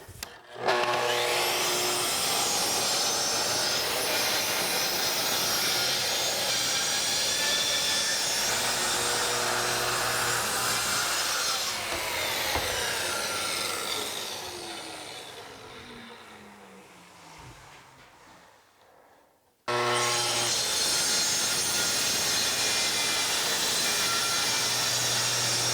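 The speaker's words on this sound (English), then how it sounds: "then I'll have to cut it this side, then move the track up and cut the other half." A track saw rips a wooden board with a loud, sustained whining cut that fades as the blade winds down, then starts again abruptly for a second pass.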